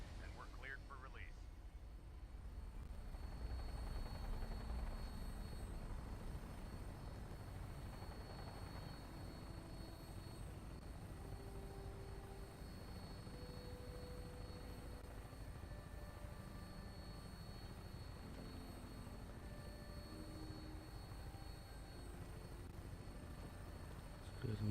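A Vertibird aircraft takes off in the Fallout 4 game, its steady rotor and engine drone filling the scene at a constant level while a voice speaks over it.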